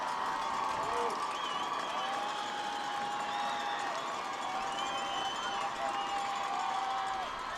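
A crowd at a Regina Powderpuff football game cheers and murmurs in a steady, far-off wash of noise, with a few whistles or shouts rising above the roar.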